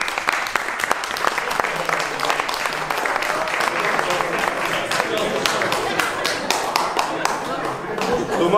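A group of hunters applauding together after a monteria hunt near Toledo, steady dense clapping sustained throughout, close and moderately loud.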